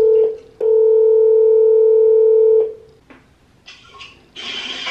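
A phone plays a ringback or dial tone while a call is placed, sounding as a loud, steady electronic tone that pauses briefly, then holds for two seconds before quieter rustling follows.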